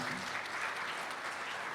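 Vigorous audience applause at a Punjabi kavi sammelan and mushaira poetry gathering in a hall, a dense continuous wash of many hands clapping at steady loudness throughout.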